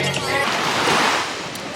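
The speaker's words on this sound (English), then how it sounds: "This is me on the beach at night." Ocean surf washes onto a beach in Jamaica at night, a close, loud, continuous rushing roar of breaking waves with some wind buffeting.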